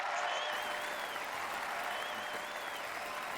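Continuous applause from a crowd, a dense even wash of clapping sustained throughout with a faint tonal hum underneath.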